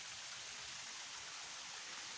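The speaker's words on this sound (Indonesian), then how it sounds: "suara gemercik airnya cuy, gila, bikin adem di kepala" Water trickles and splashes on a mountainside near a hotel in Bogor, a soft, steady rushing hiss like a small stream or cascade, continuous and fairly faint with no voices.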